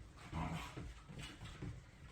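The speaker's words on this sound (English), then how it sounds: "if you hear some grumbling in the background, our two puppies are currently playing." Low, faint grumbling growls from two playful puppies, a soft continuous rumble with small yips and whines in a quiet room.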